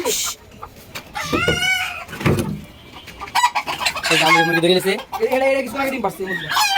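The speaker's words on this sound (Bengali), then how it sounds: "দুটা মুরগি মারামারি লাগেছে" Farmyard chickens fight close by, with loud, agitated bursts of clucking and squawking that come in uneven, rapid runs and include a strained crow-like call.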